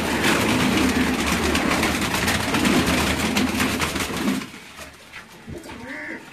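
Pigeons in a keeper's loft in Bahripur, Okara, make dense rustling and fluttering noise that fills the first four seconds, then drops to a quieter stretch with a brief tonal call near the end.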